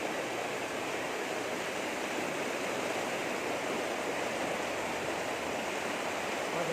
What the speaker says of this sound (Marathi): श्रीमंत दगडूशेठ हलवाई गणपती मंदिरासमोरील पाणी, पावसाचा जोर.